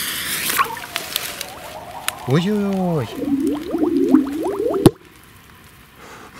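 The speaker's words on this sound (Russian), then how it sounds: "сейчас мы это чудо пиротехнической мысли будем взрывать под водой" A Maxxam Pearl K0203 firecracker burns underwater, gurgling and bubbling loudly for a couple of seconds before one sharp, muffled blast. A voice exclaims briefly over the bubbling.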